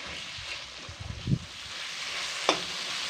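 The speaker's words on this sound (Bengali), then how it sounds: "আলু টমেটো আর মশলা একসঙ্গে খুব সুন্দর করে কষিয়ে নেব।" Potatoes, chopped tomatoes and spices frying together in a pan for a vegetarian cabbage curry, a steady low sizzle broken by a few scraping stirs, one sharper clack near the end.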